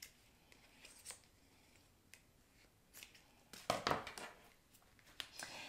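Scissors snipping off the loose string ends beside a freshly tied knot, a few quiet separate cuts close up, sparse at first and then a brisker cluster of crisp snips near the end, with no talking.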